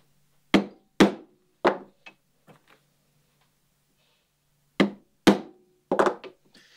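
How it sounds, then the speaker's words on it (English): A metal chisel is struck to punch rows of holes in a leather oar collar, giving sharp, close, loud knocks, three spaced hits, faint taps, then a pause and several more strikes. "when you do your next set of row of holes, you park your chisel into the last one to keep it even"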